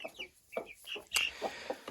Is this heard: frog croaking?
no